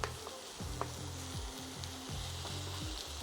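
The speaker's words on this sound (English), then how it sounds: "A nice little golden sear on that one to get y'all a closer look into the pan" Blackened salmon searing in a pan, a close, steady sizzle with low repeated rumbling thuds and no voices.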